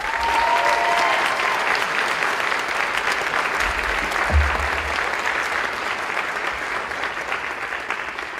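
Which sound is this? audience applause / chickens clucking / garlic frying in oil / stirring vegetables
audience applause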